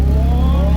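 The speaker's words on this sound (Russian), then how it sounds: "Вот это, братан, вот это мотор." The engine of a fully restored Audi S4 revs loudly and steadily up in pitch on its first start after restoration, a close, sustained mechanical drone with no talk.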